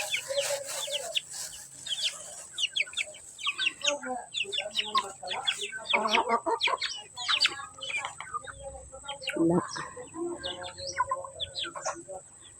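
Large farmyard chickens cluck and squawk in scattered bursts close by, with other birds chirping and a person talking intermittently.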